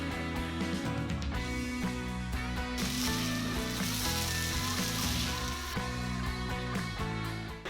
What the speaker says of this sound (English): Once you get the eggs into the pan, then you're going to want to incorporate that very well into the mixture